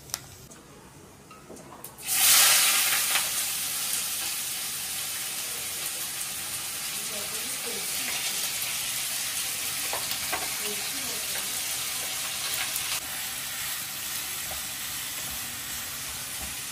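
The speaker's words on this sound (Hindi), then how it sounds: "कढ़ाई में धर्म दादा ने डाल दिए हैं गरम मसाले" Whole garam masala spices hit hot oil in a kadhai with a sudden loud sizzle that settles into steady, bright frying, with a few soft stirring knocks underneath.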